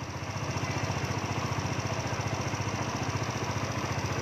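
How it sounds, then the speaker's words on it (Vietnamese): A Honda Novo scooter engine idles steadily, a soft even putter with a regular pulsing rhythm, close by and alone. "Để cho nổ máy thế này luôn."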